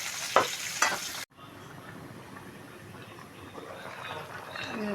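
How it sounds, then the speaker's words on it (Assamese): Assamese fish curry with potatoes simmers in a pot, a soft steady bubbling hiss at moderate distance following a brief clatter at the start, no talk. "মাছটো পূৰা ধুনীয়াকৈ উতলিছে"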